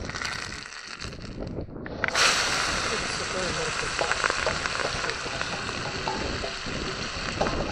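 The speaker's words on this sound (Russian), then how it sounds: "так обжариваем" Rabbit meat with spices and bay leaf frying in a kazan, a loud, steady sizzle that swells after an added splash, continuing under someone talking.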